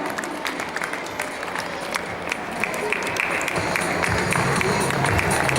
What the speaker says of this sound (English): So we need a big round of applause for them, please.